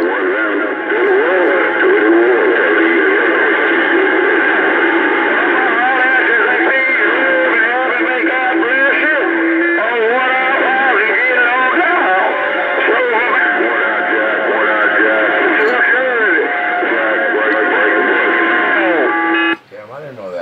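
Bearcat 980 scanner radio receiving a transmission with echo, a loud, continuous band-limited broadcast of voice with a tinny, reverberant tone that cuts off abruptly near the end.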